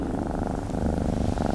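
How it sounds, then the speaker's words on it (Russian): Close, steady purring from a cat, a soft continuous rumble with a gentle rhythmic pulse and nothing else over it. "Мурлыканье – лучший в мире способ бесшумного общения мамы и котят."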